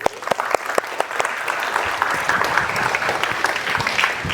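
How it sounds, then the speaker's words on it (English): An audience applauds to welcome a speaker at a TIDE Talk, dense sustained clapping close by and loud, with no voices. "let's please give him a warm round of applause"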